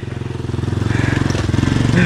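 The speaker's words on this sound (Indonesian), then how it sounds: "Awas kereta kereta, tahan tahan tahan." Motorcycle passing on a mountain-bike trail in Langkat, its close, loud, pulsing engine putter rising in level, with voices calling out over it.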